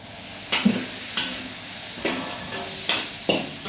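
Light soy sauce hits a hot stir-fry for a Chinese dish, giving a steady sizzle punctuated by a handful of spaced stirring scrapes in the pan.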